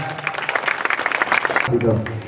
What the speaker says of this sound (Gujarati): ઘનશ્યામ કાકાની જોરદાર તાળી પાડજો